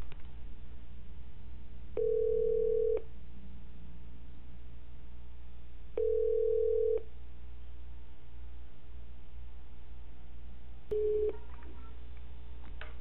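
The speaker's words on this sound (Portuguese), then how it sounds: "Tá chamando aí, ó." A telephone call rings out on the line as a repeated ringback tone: two one-second beeps about four seconds apart, then a shorter third beep, over a steady line hiss.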